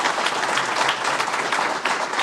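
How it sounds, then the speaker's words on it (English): Sustained applause from an audience at a fire rescue pinning ceremony, an even wash of many clapping hands with no break. "Please give a round of applause for Craig Bronson and Chris Clausen for those words"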